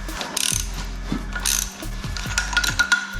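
A socket wrench ratchet working on bolts of a VW T4 engine mounted on an engine stand, close rapid clicking bursts repeated several times with brief pauses between strokes.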